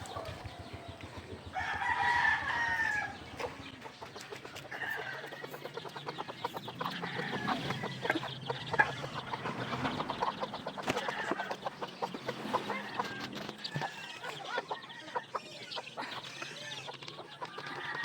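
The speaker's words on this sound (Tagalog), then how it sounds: "nagbigay naman ako ng pagkain sa aking inahing manok" A mother hen clucks and a rooster crows in a backyard, repeated calls over a long stretch with steady background noise, moderately near and without speech.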